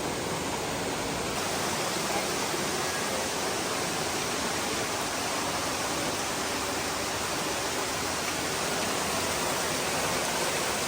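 Steady broadband roar of a waterfall in a gorge in New York's Finger Lakes, continuous and fairly close, with no voices over it.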